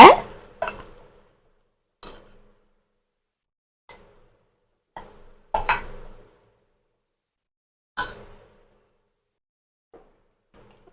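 Garlic thokku served into a bowl with a steel spoon, giving a series of sharp metallic clinks and scrapes spaced out over about ten seconds, close and clear in a quiet kitchen.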